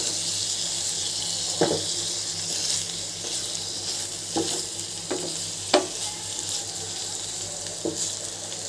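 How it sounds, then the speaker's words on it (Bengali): Hilsa fish coated in turmeric, salt and chili powder fries in hot oil with a steady crackling sizzle, broken by a few sharp spatters and clinks. "এখন আমি ইলিশ মাছটা দিয়ে দেবো।"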